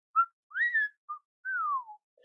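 A person whistles several short and gliding notes in a calm, quiet setting, each rising or falling in pitch with brief gaps between, clear and close with no other sounds around.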